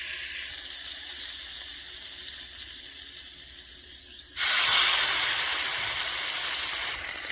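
Salmon dropped into a pan of melted butter, a broad hiss bursting up suddenly and holding as a loud steady sizzle close by, with a quieter hum before it.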